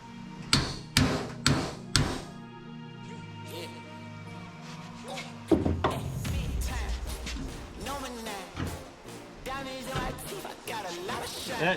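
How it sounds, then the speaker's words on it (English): Heavy hammer blows pounding on the bent door hinges of a 1934 Chevy rat rod truck: several loud, evenly spaced metallic strikes up front, then clattering work noise with people talking over it. "Get the big buddy hammer out."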